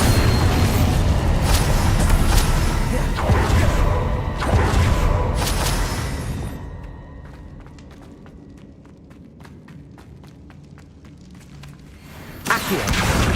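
Bombarda spell blasts in Hogwarts Legacy: loud booming, rumbling explosions for several seconds, then a quieter stretch of scattered sharp ticks and debris before a final burst.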